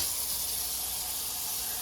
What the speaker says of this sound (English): So let me turn on my sink to demonstrate.